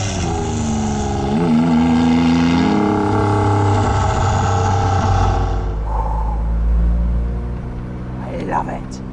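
Jaguar XJ220 sports car engine running loud and steady while driving, a rising and falling note with strong low rumble, then easing off near the end, with someone talking over it.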